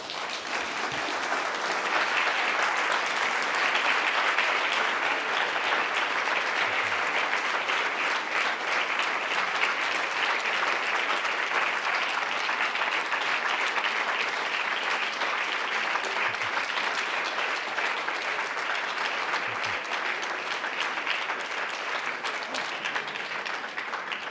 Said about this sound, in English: Big applause for Rob